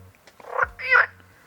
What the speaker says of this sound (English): Cue the frogs.